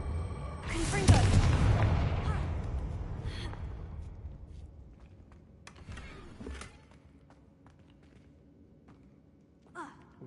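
A Confringo blasting spell fires in the Hogwarts Legacy video game, a loud booming burst with a crackling tail that fades over several seconds, followed by a few faint scattered clicks and thumps.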